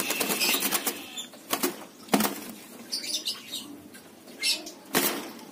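Spotted doves, one mottled and one white, fight at close range, with repeated bursts of wings flapping and scuffling in quick irregular flurries, sharp rustling hits rising and falling against a quiet outdoor background.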